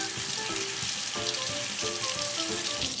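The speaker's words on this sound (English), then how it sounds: "Give this a quick rinse." A medium tomato rinsed under a running kitchen tap, with a steady broadband water hiss lasting throughout and light clatter from handling, close and fairly loud, no talking.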